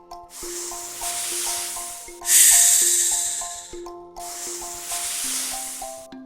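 A snake hisses in long breathy bursts, rising to a loud forceful hiss midway, set over a soft repeating melodic backing.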